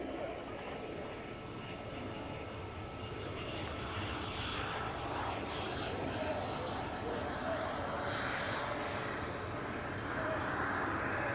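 A Yak-130 jet trainer flies past at a Russian Air Force anniversary airshow, its engine a steady, fairly distant drone that swells slightly toward the end, with a voice speaking over it.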